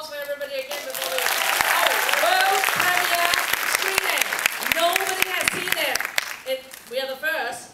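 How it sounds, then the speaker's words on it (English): Audience applause fills a film festival screening room, a dense, sustained burst of clapping that swells for several seconds and then thins out, with voices calling and talking over it near the end. "Applause for everybody again"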